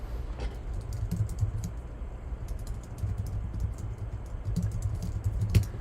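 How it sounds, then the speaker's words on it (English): Close, steady typing on a computer keyboard during a Google search, a quick run of light key clicks with a few sharper taps and no talk over it. "I'm just typing in on Google to see what comes up whenever I type in Ohio BMX riders."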